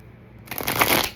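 Playing cards shuffled briefly nearby, a quick papery riffle bursting out after a moment of quiet and fluttering for about half a second.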